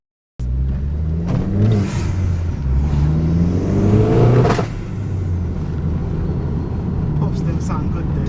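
A forged Vauxhall Corsa VXR engine drones and revs under load from inside the cabin, with a sharp crackle of exhaust pops midway through. The engine tone rises and falls steadily over the road noise.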